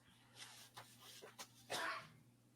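A sneeze bursts out near the end, sharp and fairly loud, after a few softer breathy sounds in a quiet indoor setting.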